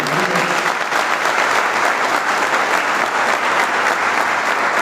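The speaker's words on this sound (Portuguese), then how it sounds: "Dê um forte aplauso ao Senhor" Congregation at a church service breaking into loud, dense applause, steady and sustained for several seconds.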